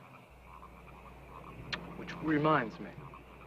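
Frogs croak at night near water, a brief burst of rough croaking rising and fading over a quiet noisy background, with a person speaking briefly.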